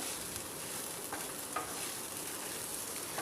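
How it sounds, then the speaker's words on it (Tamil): Onion and okra frying in a pan give a steady, dense sizzle that holds an even level throughout, with a few faint stirring scrapes and no voices. "இதுலேயே இந்த ஆனியனும் நல்லா ஃப்ரை ஆகி வதங்கிடும்"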